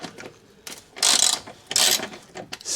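Torque wrench ratchet clicks in short bursts while a T30 Torx bolt is cracked loose and unscrewed from a BMW N52 oil filter housing, with a quieter mechanical rattle between bursts and no talk.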